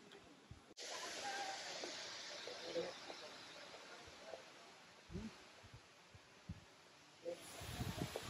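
A waterfall at a rock garden pours with a steady, broad rushing roar through the whole stretch, fairly close, while people talk faintly over it.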